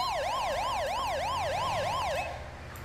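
An ambulance siren from a SUMMA 112 emergency vehicle in a video game EMS mod wails in a fast, regular rising-and-falling pattern, loud and close, then cuts off abruptly near the end.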